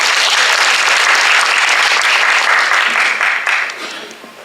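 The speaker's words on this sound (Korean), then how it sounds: "미국 재활승마협회 조디 앵게트 회장님께 큰 박수를 부탁드립니다" Audience applause at an international therapeutic riding symposium: loud, dense clapping from a seated crowd, sustained and close, then fading away over the final second.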